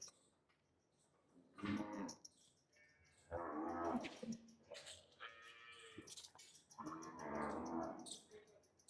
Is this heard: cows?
yes